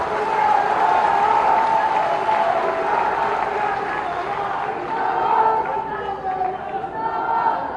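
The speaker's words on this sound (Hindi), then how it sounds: "तालियां बजा के" A large political rally crowd claps and murmurs continuously, with a loudspeaker voice ringing over the steady wash of applause.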